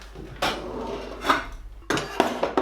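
Metal cookware clanks and scrapes close by, a few sharp knocks and rattles spaced irregularly, with quiet room noise between them.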